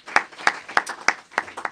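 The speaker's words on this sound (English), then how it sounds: "let's give him a round of applause" A few people clapping for a speaker at a joint committee hearing on fisheries and aquaculture in Sacramento, about six distinct claps in a slow, sparse rhythm.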